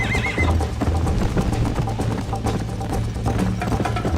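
Rapid hoofbeats of a galloping horse in Red Dead Redemption with a whinny, set against a steady rumble and continuous game background sound.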